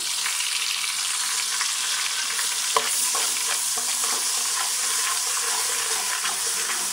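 Browned onions with ginger garlic paste frying in a pan and being stirred, a steady close sizzle with light scraping and one sharp tap of the spoon partway through, no voices.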